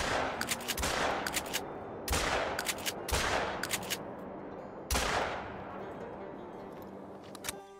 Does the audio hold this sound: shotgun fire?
yes